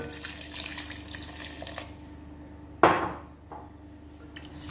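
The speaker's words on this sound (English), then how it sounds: "So I'm going to add water now." Water poured from a tap into a pot of minced meat and potatoes makes a sudden loud splash near the three-second mark that quickly fades into a softer trickle, with faint kitchen clatter around it.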